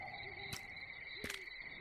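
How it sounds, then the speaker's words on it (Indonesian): An owl hoots twice at night, two short, faint calls about 0.75 seconds apart over a steady chorus of crickets and insects. "itu suara burung hantu nyaring bener ya?"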